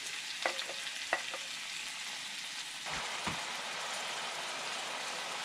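Shrimp and squid hit a hot pan and fry with a steady, close sizzle, a few sharp clinks of a utensil early on and a louder burst of crackling midway that keeps hissing to the end.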